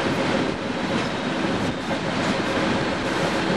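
Loco Trax DC3 locomotive fitted with a diesel last-mile module, running on non-electrified yard tracks: a steady, loud rolling rumble of rail wheels and engine noise, continuous and close, with no voices.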